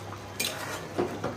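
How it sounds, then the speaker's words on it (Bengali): A lid set on a pot of thick kochu (taro stem) curry with beef, giving a couple of brief metallic clinks of pot and cover close by, no talking. "আমি এটা এখন ঢাকা দিব একটু।"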